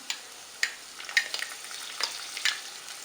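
Ginger, garlic and green chillies dropped into hot oil in a pan, giving soft crackling sizzle with scattered sharp pops and light stirring clicks, close by and fairly quiet, no voices.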